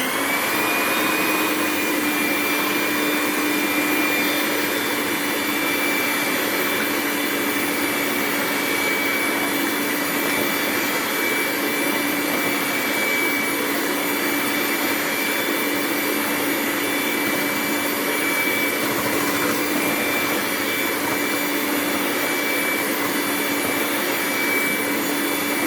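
An electric mixer beats eggs on its low setting for a bulk batch of black cake, giving a steady, loud, even motor whine and hum that holds without a break for the whole stretch, with no talk.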